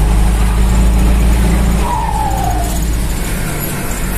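A turbocharged, intercooled Ford F350 pickup with a swapped engine runs loud and close, its heavy engine rumble carrying a rising turbo whistle and squeal partway through that fades as the revs settle.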